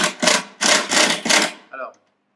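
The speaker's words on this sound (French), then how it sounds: "Je suis en train de visser." Screwing a panel onto a loudspeaker enclosure, heard as four loud grinding bursts of a driver turning screws into wood, each lasting about a third of a second, followed by a shorter squeak, close by.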